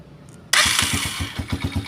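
A TMX Alpha motorcycle, just fitted with a 4-pin CDI and a refilled carburetor, fires up abruptly after a short quiet moment, then settles into a loud, close, lumpy idle with a steady pulsing beat.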